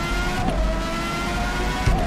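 A race car in a sim racing game at the Interlagos circuit, holding a steady, loud engine drone at high speed with a sustained tonal whine, a slight shift near the end under braking.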